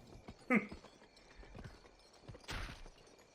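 Horse hooves clopping in the western video game GUN, a few soft irregular hoof thuds at moderate distance with a brief louder burst midway, plus faint game ambience.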